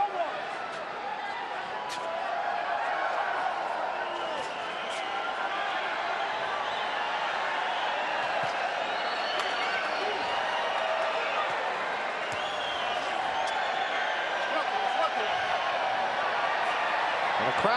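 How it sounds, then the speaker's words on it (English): Dense crowd roar filling a boxing arena at the MGM during a Marquez versus Casamayor fight, a steady wash of cheering and chatter held throughout, with scattered claps and shouts inside the din. "And the crowd very much into this fight."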